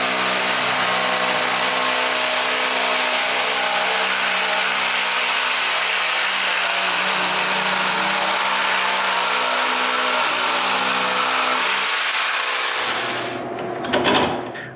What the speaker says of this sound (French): la couper avec la scie sauteuse